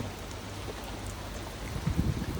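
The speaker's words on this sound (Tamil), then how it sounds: "கத்தார் டெசர்ட்ல மழை பெய்யுது" Steady rain in the Qatar desert hisses in a broad, even wash, with a few heavier low rumbles near the end.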